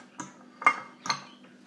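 Food being mashed in a container: three soft, evenly spaced knocks and scrapes of a utensil against the bowl in a quiet room.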